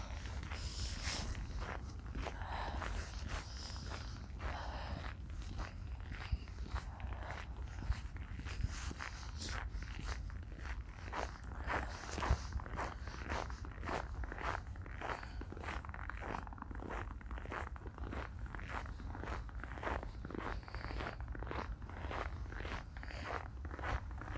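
Steady crunching footsteps of boots in frozen snow on a freezing day, trudging along at a regular walking pace, close by, each step a gritty crunch, with no talking.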